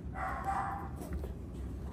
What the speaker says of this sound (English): Sorry for the barky dog.